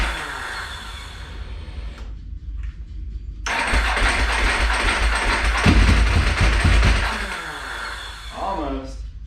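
A Ducati 999 motorcycle engine is cranked with the choke on, a short whirring starter burst, a pause, then a longer loud grinding crank that rises and falls without catching, and a voice speaks at the end.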